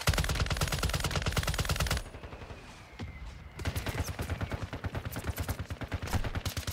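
Video game gunfire from Call of Duty Warzone: rapid, loud automatic bursts stop abruptly, give way to a quieter lull with a single distant shot, then resume as a steady stream of close, rhythmic shots.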